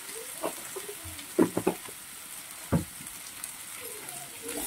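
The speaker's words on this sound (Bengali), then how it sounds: "একটু নেড়ে ছেড়ে ঢাকনা দিয়ে আলুটাকে ভেজে নেব" Potatoes are stirred and fried in a pan with salt, giving a quiet sizzle and a few scraping stir strokes near the start and middle.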